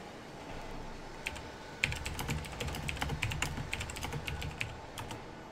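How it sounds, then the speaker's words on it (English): Close, loud computer keyboard typing picked up by a very sensitive microphone, a quick uneven rattle of clacking keystrokes in bursts over a low background hum, with no talking. "I do apologise for the loud keyboard as well"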